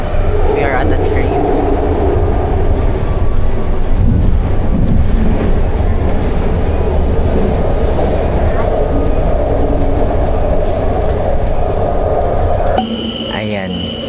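Interior of a Bay Area commuter train heading toward Civic Center and Richmond, a loud continuous rumble and roar of the carriage in motion, steady throughout before dropping to a quieter hum near the end.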